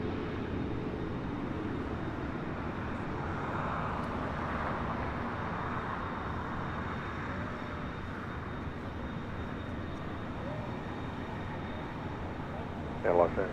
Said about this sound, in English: This is Alaska Airlines 1336 taking off to Los Cabos on a 737-800.